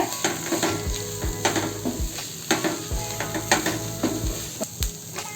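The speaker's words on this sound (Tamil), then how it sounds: "கொத்தமல்லி போட்ட பின்னாடி ஒரு நிமிஷம் போல் சிம்மில் வச்சு வதக்கி எடுத்துக்கலாங்க" Coriander leaves sautéing in a pan over a low flame for chutney: a soft steady sizzle under repeated scraping and stirring strokes with a few light knocks, close by, with no talking.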